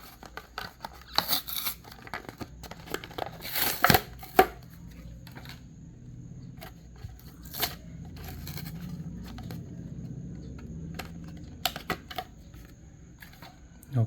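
Cardboard insert pulled from the packaging of a Majorette Jaguar F-Type R Racing Edition toy car, giving close crinkling, scraping and tapping bursts, busiest early, then quieter rustles over a low background hum.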